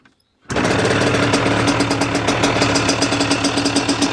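A DRD Pro Limited 80cc dirt bike engine, already warm, fires up abruptly after a brief silence and settles into a loud, steady, rattling two-stroke idle close by.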